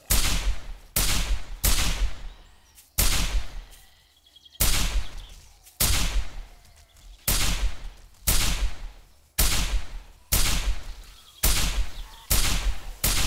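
Shots ring out from a weapon in a modded 7 Days to Die (War of the Walkers): about a dozen loud, sharp reports in a steady rhythm roughly a second apart, each trailing off briefly.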